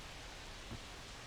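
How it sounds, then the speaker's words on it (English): Steady rain falls across a baseball field in the video game MLB The Show 25 as the infield starts to puddle, a constant even hiss with no voices over it. "the field's not going to be able to hold up if the rain gets any worse than this"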